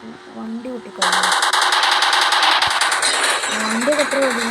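A machine gun in a video game fires in a rapid, evenly spaced stream of loud shots lasting several seconds, with a person speaking over the start and again near the end.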